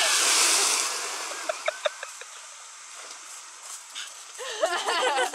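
Dog barking outdoors near water, a few short, moderately distant yaps in quick succession amid rushing ambient noise, followed by people talking.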